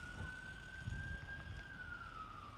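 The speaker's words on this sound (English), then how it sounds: "Got the ambulance way down there." A faint, far-off ambulance siren holds one steady, slowly drifting wail from start to finish over a low murmur of outdoor background noise, with no one talking.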